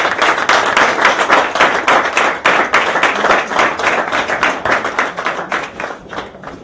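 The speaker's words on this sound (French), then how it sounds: "Je voudrais vous inviter à m'offrir un applaudissement énergétique pour la gloire de Dieu" Guests at a customary wedding break into energetic rhythmic clapping, loud and close, the sharp claps arriving quickly and steadily before easing slightly at the end.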